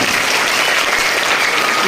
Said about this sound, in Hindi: इनके लिए जोरदार ताली बजाओ